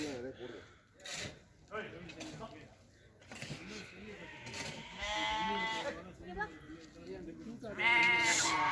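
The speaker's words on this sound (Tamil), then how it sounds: "இது வந்து கோட் ஃபார்ம் ஆட்டுப்பண்ணை." Goats bleat several times at a hillside goat farm in Mannavanur, Kodaikanal, with the louder calls coming toward the end, mixed in with steady talking throughout.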